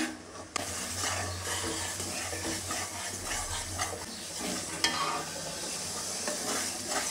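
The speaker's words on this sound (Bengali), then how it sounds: "এখন এই মশলাটা ভালো করে কষিয়ে নেব" Spice paste for an olive pickle fries and is stirred in a pan, a steady close sizzle with scraping strokes and a couple of sharp clinks, running without a break.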